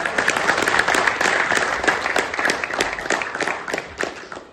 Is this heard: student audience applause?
yes